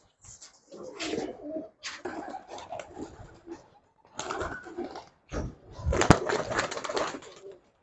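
Rajshahi Giribaz pigeons at a pigeon farm coo in several bursts, with soft, close, low warbling calls in overlapping groups separated by brief pauses.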